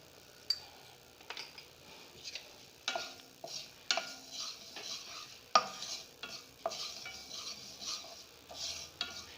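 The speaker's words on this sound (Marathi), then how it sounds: "आता पहिले आपण खसखस भाजून घेऊया." Poppy seeds dry-roast in a pan without oil as a spatula scrapes and stirs, making irregular close taps and scraping strokes over a faint hiss, quiet and with no talk.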